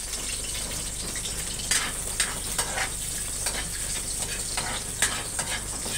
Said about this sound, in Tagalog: Sinunod natin yung bawang.